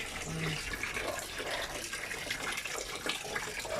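Tap water runs steadily into a basin to soak laundry for hand washing, a continuous close splashing fill with faint background noise.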